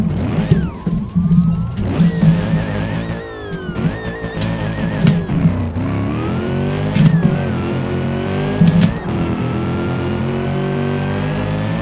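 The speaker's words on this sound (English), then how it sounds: "Just completely floored it until my car crashes or something. I'm not laying off the gas." A minivan with a swapped Hellcat engine is floored in BeamNG Drive, its engine revving loud and rising repeatedly through the gears, with brief dips between the revs.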